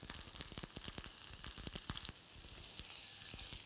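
Pot roast meat browning in a hot pan, a dense continuous sizzle with crackling pops, moderately close and steady with no voices.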